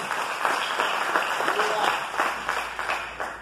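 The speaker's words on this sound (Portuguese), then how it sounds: "Dá uma salva de palmas para Jesus." A church congregation breaks into steady applause during a worship service, a continuous crowd clapping texture with a voice faintly audible underneath.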